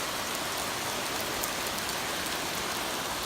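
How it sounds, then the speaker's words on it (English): Heavy rain pours down hard amid strong winds, a loud, steady, dense wash of drops with no pauses and no voices. "So right now it's not only pouring, now the strong winds."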